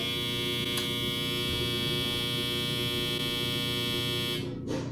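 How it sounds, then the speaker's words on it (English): A loud, steady electronic buzzing tone from a clothes dryer alarm drones continuously for several seconds, harsh and insistent, then cuts off abruptly near the end. "My dryer makes this alarm like the world is ending"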